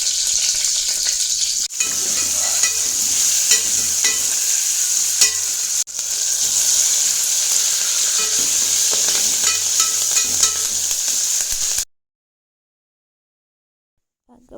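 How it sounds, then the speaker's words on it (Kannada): Mustard seeds crackling and spluttering in hot oil for a tempering for carrot-beetroot gojju, a dense continuous sizzle with tiny popping bursts, loud and steady for about twelve seconds before cutting to silence. "ಅದಕ್ಕೆ ಆಯಿಲ್ ಹಾಕಿ ಸ್ವಲ್ಪ ಸಾಸಿವೆ ಹಾಕಿ ಮಾಮೂಲಿ ಒಗ್ಗರಣೆ ಹೆಂಗೆ ಕೊಡ್ತೀವಿ ಹಿಂಗೆ"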